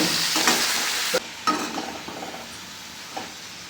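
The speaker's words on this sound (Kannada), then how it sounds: "ನೋಡಿ, ಈ ಥರ ನೀಟಾಗಿ ಹುರಿಬೇಕು." Lamb blood being stir-fried in a pan, with a steady sizzle and a few sharp scraping stirs of a utensil against the metal, close and alone without any talk.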